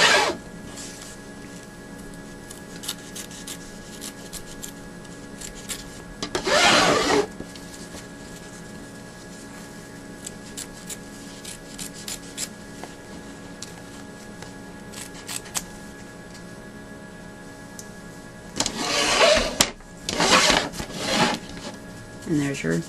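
Scissors cutting the edges of quilt fabric pieces for a crazy quilt block. Two short, close rasping bursts of snipping stand out against a quiet room, one alone and a later cluster of several.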